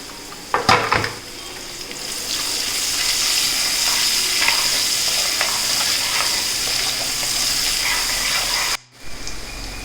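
Chopped onion sautéing in a pan for rava kichadi, a steady close sizzle that starts after a couple of clattering knocks, then drops out sharply near the end.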